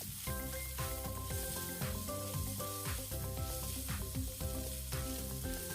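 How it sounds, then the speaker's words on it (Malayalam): Onion, garlic and ginger paste sautéing with cashews in a pan for butter chicken, giving a steady, close sizzle and stirring under prominent background music throughout. "ഈ മിക്സിലേക്ക് കശുവണ്ടിയും കൂടെ ചേർക്കാം. എന്നിട്ട് വീണ്ടും വഴറ്റുക."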